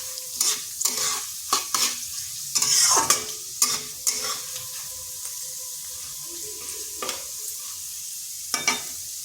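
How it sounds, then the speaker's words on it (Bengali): Lentils lightly frying in a pan, a soft continuous sizzle broken by irregular spatula scrapes and stirring knocks, close and moderately loud. "হালকা একটু ভেজে নিতে হবে"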